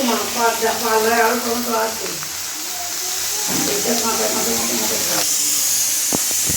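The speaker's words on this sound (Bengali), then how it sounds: "এখানে তো ঢ্যাঁড়সটা ভাজা বসিয়েছি" Okra sizzles and hisses steadily in a frying pan in a home kitchen while someone talks over it.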